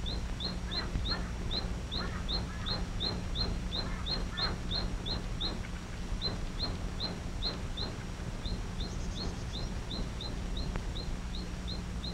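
A Taiwan bush robin in the high Central Mountain Range gives rapid, repeated high chirps in quick bursts over a steady low background hum, the calls moderately near and continuing throughout.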